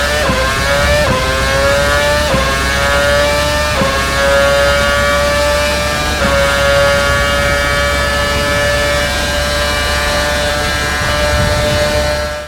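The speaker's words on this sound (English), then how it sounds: "Listen to that V8, man. I really miss this sound" A V8-powered F1 car in Assetto Corsa howls at full volume, its engine note climbing and then dropping at each upshift in a repeating series of shifts, loud and continuous with no talking.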